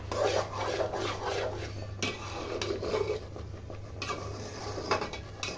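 Mango pickle being stirred in a pan, a spoon scraping and rasping against the metal in repeated strokes, close and fairly quiet.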